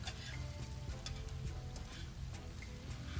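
Faint sizzling of onions in a pan as fresh green seasoning is stirred in, with light scattered ticks and crackles over a low steady hiss, quiet and alone without speech.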